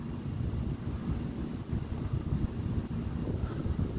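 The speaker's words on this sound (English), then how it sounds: "The wind's picked up to about" Strong thunderstorm wind at around 45 miles an hour roars and buffets the microphone in a continuous, rumbling low gust with no voices.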